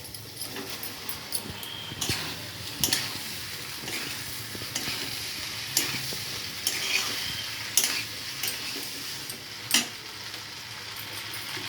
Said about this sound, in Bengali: আমার মেশানো হয়ে গেছে আমি এবার এর মতো পাস্তাটা দিয়ে দেবো